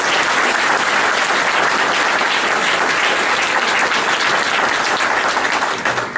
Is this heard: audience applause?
yes